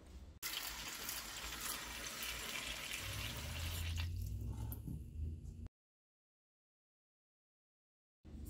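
Tap water runs steadily and gently into a bowl of fresh raspberries for about five seconds, close and fairly loud, then cuts off into silence.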